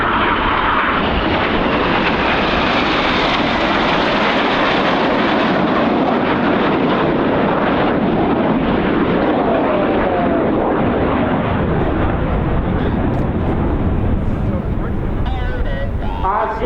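Red Arrows jets fly past at the Royal International Air Tattoo: a loud, continuous jet roar that swells and holds throughout, with an announcer's commentary faint beneath it.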